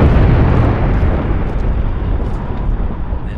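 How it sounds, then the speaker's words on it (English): Deep, sustained rumbling blasts roll on with a dense, noisy roar, loud and heavy throughout: explosions in the video game Homefront: The Revolution. "Those explosions are definitely getting closer."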